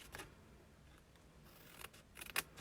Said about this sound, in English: we're going to cut up to that first score line